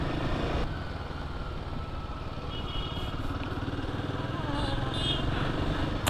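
A motorcycle being ridden, its engine droning steadily and close throughout with a continuous rumbling buzz, no pauses or gear changes standing out.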